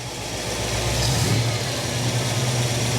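AMC 304 V8 in a Jeep CJ-7 running steadily near idle around 875 rpm during tuning, then given a slight blip of throttle; a loud, close, continuous engine rumble with a modest rise midway, no talking.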